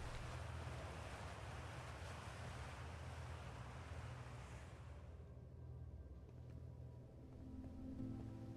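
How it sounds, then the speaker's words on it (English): Loud rushing water waves from the game Outer Wilds, a broad steady roar and wash that fills the whole clip, easing slightly partway through as a faint tonal hum emerges underneath. "The water's so fucking loud."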